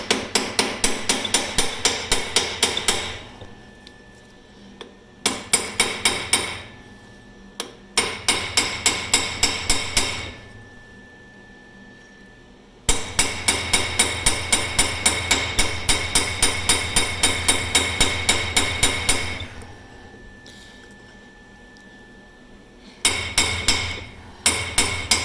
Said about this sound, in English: this is a cold chisel, it's not sharp.